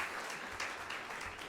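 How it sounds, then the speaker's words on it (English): Faint, steady applause from a conference audience at a digital summit, a continuous wash of distant clapping with no gaps. "Let's give her another round of applause."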